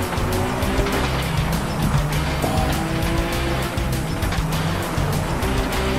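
A car races in FlatOut Ultimate Carnage with a loud, continuous engine drone shifting pitch as it revs, overlaid by squealing tires and skids.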